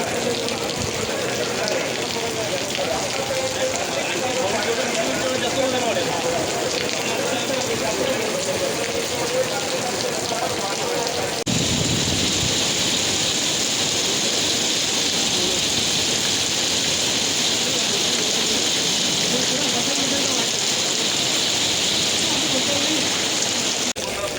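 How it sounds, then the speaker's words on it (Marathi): Heavy rain pours during an outdoor mock drill at a Kalyan ground, a loud, steady hiss throughout with voices and crowd talk mixed in underneath. "पाऊस आला जोरात"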